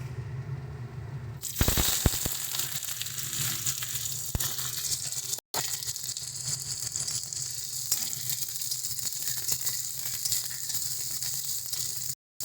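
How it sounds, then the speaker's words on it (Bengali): Chopped onion hits hot oil with a sudden loud sizzle after a quiet moment, then keeps frying in a dense, steady crackle, close by and alone, with brief dropouts. "তেলও কিন্তু ভালো মতন গরম হয়ে গেছে তো দিয়ে দিচ্ছি এর মধ্যে আমরা প্রথমে পেঁয়াজ কুচি"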